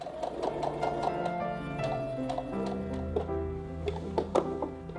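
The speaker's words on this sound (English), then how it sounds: "I proceeded to sew a facing to the V-neck, which is just a strip of fabric" A sewing machine steadily stitches a fabric facing strip onto the V-neck of a dress, a continuous close mechanical whir with a rapid rhythmic needle patter and occasional sharper clicks, heard alone.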